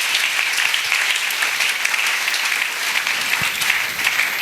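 A church congregation claps together for the Lord, dense continuous applause filling the hall at a steady loud level throughout.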